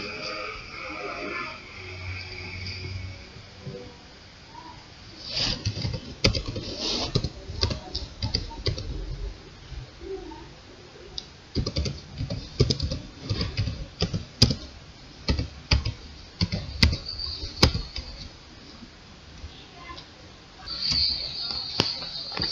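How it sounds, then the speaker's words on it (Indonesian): Fingers type code on a computer keyboard in quick, close clicking bursts with short pauses, steady and fairly faint, with no talk over it. "Setelah itu kita ketikkan kode berikut."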